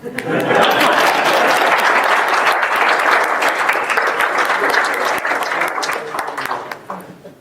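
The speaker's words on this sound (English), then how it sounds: "Usually I get applause" An audience at an agile-mindset talk breaks into loud, sustained applause, a thick wash of clapping that holds steady before tapering off near the end.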